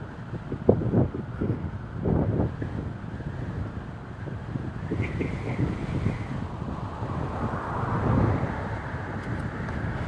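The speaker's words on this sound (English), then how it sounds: "Maybe the wind is just that strong." Strong wind buffets the microphone in loud, continuous low rumbling gusts, with faint traffic-like noise underneath and no speech.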